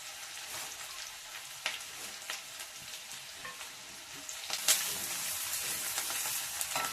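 Chopped onion and curry leaves fry in hot oil in a pan for a beetroot palya, giving a steady, bright sizzle with crackling pops and the scrape of stirring, heard alone and fairly close.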